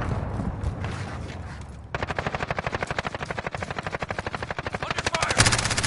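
Sustained rapid automatic gunfire in a battle royale shooter, a long steady stream of loud, evenly spaced shots over a rumbling background, growing heavier toward the end.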